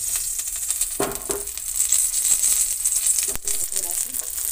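Ghee sizzles in a pan while a moong dal pizza cooks, a bright steady crackling hiss close by with a few light clatters, under talk.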